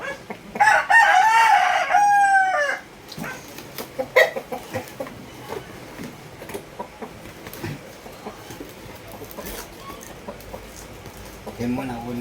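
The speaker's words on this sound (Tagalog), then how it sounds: "Idol, ito na yung manok mo ha." Fighting rooster crowing loudly and close at the start, followed by scattered clucks and farmyard bird calls while people talk in the background.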